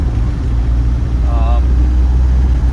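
A 1998 Land Rover Defender 110 with the 300Tdi diesel engine idles steadily, a low continuous rumble close by, with a brief faint whistle-like tone in the middle.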